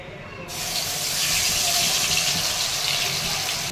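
Ground coconut, onion, garlic, ginger, coriander and green chilli paste sizzles in hot oil, starting abruptly with a bright, steady hiss that stays loud and close for several seconds.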